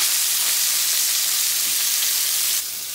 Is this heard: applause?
no